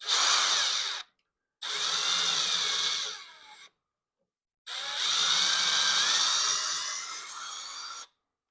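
A power driver spins out a 4mm bolt from an Onefinity Elite CNC machine, sounding as three loud, steady whirring bursts with short silent pauses between them, close up and without voices.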